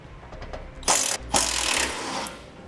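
A hand ratchet loosens 8mm heat shield bolts under a 2015 Lincoln MKX, with a couple of close, sharp clicking bursts over a low background hum.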